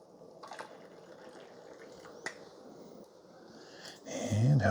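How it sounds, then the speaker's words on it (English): Coffee pours from the glass carafe of a Breville Grind & Brew 12-cup coffee maker into a cup, a soft liquid trickle that swells into a louder, closer stream near the end. "You gotta get the carafe dumped over pretty good before it starts pouring."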